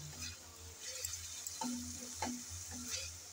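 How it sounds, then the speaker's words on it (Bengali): Spice paste for a rohu fish curry with potatoes fries steadily in a pan, a constant close sizzle under soft periodic scrapes of a spoon stirring the masala, with no voices. "সেজন্য মশলাটা ভালো করে কষিয়ে নিতে হয়"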